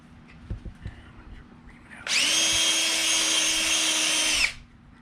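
A power drill drives screws into a boat hull while fitting Lenco electric trim tabs, one steady loud whirring run of about two seconds, close by, with faint handling knocks before it.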